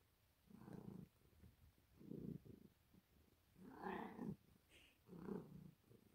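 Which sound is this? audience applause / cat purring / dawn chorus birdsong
cat purring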